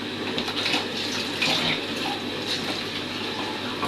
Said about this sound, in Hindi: और अब मैं इसमें पानी भी डाल देती हूँ